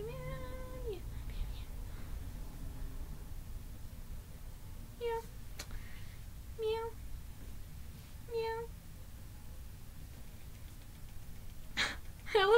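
A cat meows several times, short high cries spaced a second or two apart, fairly close, over quiet room noise with a louder cry at the end.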